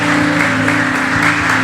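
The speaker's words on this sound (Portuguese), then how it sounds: "Vamos aplaudir Jesus em forte." A church congregation applauding, loud dense clapping carried over sustained tones from music or an organ in the background, lasting the whole moment.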